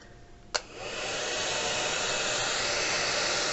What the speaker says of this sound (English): I'm going to use a blow dryer on its lowest setting so it doesn't blow away.